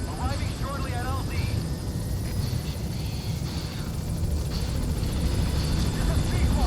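A B-Quad support helicopter in Metal Gear Solid V approaches a landing zone, its rotor making a steady, dense beating roar that stays loud throughout, with a radio voice talking over it.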